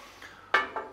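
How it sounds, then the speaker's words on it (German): A water glass is set down on a counter beside an espresso machine, making a sharp clink followed by a second, softer knock a moment later, close and clear in a quiet room. "Ich tue mal mein Wasserglas beiseite."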